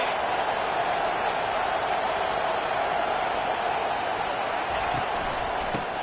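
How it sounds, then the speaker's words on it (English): Steady, dense roar of a football stadium crowd on third down during Texas versus Michigan, a constant wall of noise with no breaks. "Third down, and this crowd is tearing the lid off this place."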